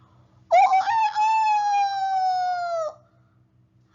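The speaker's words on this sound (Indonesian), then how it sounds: ""Hari sudah pagi," kokoknya keras-keras." A single long, harmonically rich cry swells and holds for about two seconds before dropping off, like a rooster's crow, with faint rhythmic ticking underneath.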